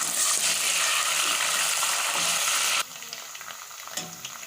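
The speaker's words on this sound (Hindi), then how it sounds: "इसको अच्छे तरीके से फ्राई करेंगे।" Loud, dense sizzling of ginger and garlic frying with onions in hot oil, then the hiss abruptly drops to a quieter crackle with a few light stirring clinks.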